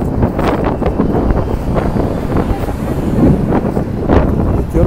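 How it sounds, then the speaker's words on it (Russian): Wind gusting over a microphone on a city beach in San Sebastián, Spain, a steady rough roar and rumble with faint surf beneath, continuous and close. "Ветерок, правда, поднялся."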